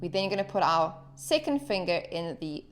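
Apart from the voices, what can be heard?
None of the usual background noises is heard.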